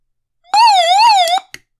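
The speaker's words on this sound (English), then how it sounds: "if I press and hold this, this is going to make a siren, loud siren, and flash the light." A Raddy SW10 emergency radio sounds its loud SOS siren, a wavering electronic wail lasting about a second, followed by a short click as it stops.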